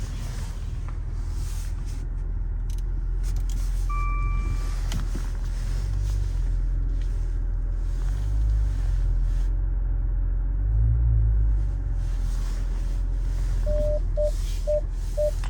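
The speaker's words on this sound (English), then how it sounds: "And you can hear the sensors going off." An SUV's parking sensor starts beeping near the end while backing up, short repeated tones speeding up over a low engine rumble, with a steady faint tone running beneath.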